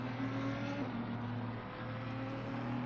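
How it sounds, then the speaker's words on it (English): GT race cars in the Assetto Corsa Competizione racing game drone steadily with a sustained engine whine, a slight pitch shift midway, and no talk over them. "I absolutely love the sound of the GT cars."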